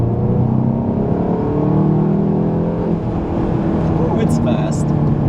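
Volkswagen Golf GTI pulling hard under acceleration, engine note rising and dropping through rapid dual-clutch gear changes, steady and loud from inside the cabin.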